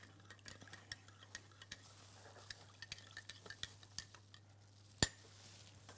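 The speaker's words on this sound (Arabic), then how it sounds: "هقلب فيها معلقتين من السكر بسم الله انزل بيها بالسكر واقلب كويس" A spoon scrapes and taps around a bowl as two spoonfuls of sugar are stirred into a kahk dough mixture. The clicks are irregular and soft, with one sharper knock near the end, over a low steady hum and with no talking.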